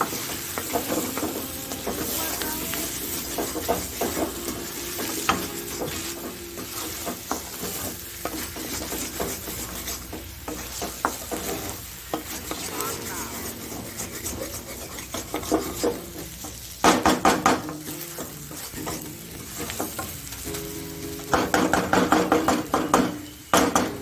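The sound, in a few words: frying and stirring ginger potatoes in a pan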